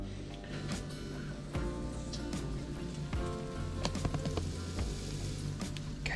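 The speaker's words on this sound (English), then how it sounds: "I love the sound of sizzle" Seasoned shrimp wrapped in bacon sizzle in a hot pan, a steady crackling hiss with scattered pops running throughout, moderately close and unbroken by talk.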